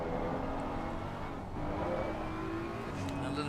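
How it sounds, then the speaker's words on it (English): A Mercedes GT3 race car in a racing video game accelerating hard at Valencia, a steady loud engine roar climbing in pitch with a faint whine, continuous through the moment. "That Mercedes just launched off the line through there."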